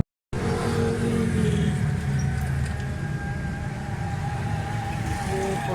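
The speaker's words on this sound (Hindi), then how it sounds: "मैं इसकी फिटिंग करके गाड़ी स्टार्ट करके चेक करता हूँ आपको" Suzuki Alto 1000cc car engine running after being started, a steady close mechanical hum with mild revving that stays constant for several seconds, no talking.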